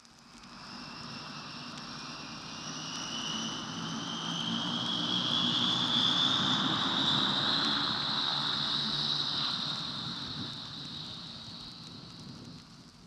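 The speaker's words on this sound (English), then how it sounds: "That was a Viscount, the first jet prop airliner in the world" A Vickers Viscount turboprop airliner takes off, its engine roar and high whistling whine building steadily, peaking mid-clip, then fading as it climbs away, heard alone from a distance.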